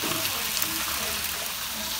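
Chicken for tandır sizzles in a pan, a loud, steady, close hiss of frying oil that continues throughout, with voices briefly talking over it.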